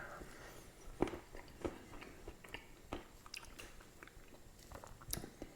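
Someone bites into a low-carb keto fat bomb dessert made with butter, cream cheese and chocolate chips, followed by quiet, close chewing with soft crunches and squishes and no talking.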